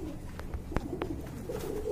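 A khaki female pigeon of silver khaki red gear type coos in a few soft, short pulses against a steady background murmur, with a sharper click near the middle.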